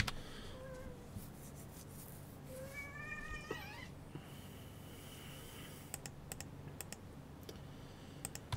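Pet cats meow several times, faint and close, some calls rising and wavering, over a quiet room hum with scattered computer keyboard typing and mouse clicks.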